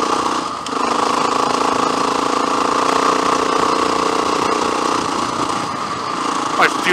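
A loud motorbike engine drones steadily while riding along a graded dirt road, close up and continuous, rising slightly near the end, with no talking over it.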